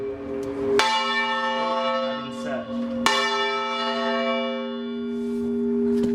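Two loud church bell strikes ring out close by inside a belfry, each leaving a long sustained hum that slowly fades, with faint voices in the background.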